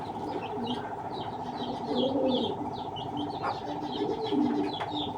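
Tiger racing pigeons, a male and a female of foreign bloodline, cooing softly in a loft, low repeated coos mixed with light chirps and a faint flutter, under a steady background hum.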